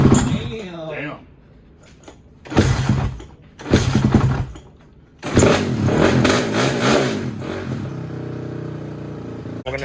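A small pit bike engine revs up close in several loud bursts with pauses between them, then holds a sustained roaring rev. A voice can be heard between the bursts.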